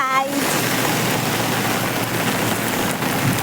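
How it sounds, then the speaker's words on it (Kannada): Heavy rain pours down in a dense, steady hiss, close and loud, continuous. "ಫುಲ್ಲು ಮಳೆ ಬರ್ತಿದೆ."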